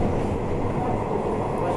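A train in Houli, Taiwan rolls along with a loud, continuous low rumble and a broad roar that stays steady throughout, heard up close.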